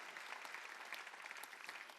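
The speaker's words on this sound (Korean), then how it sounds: "박수 쳐야지." A church congregation applauds during a Sunday worship service, a soft, steady wash of many hands clapping, even and continuous throughout without speech.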